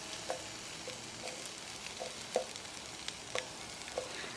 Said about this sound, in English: The pan is nice and hot now with that oil in there. So I'm just going in with the onions.